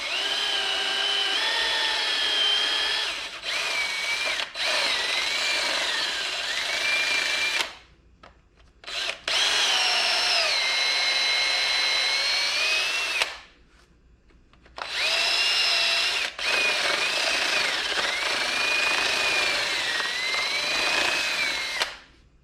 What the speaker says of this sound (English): we'll go ahead and drill this out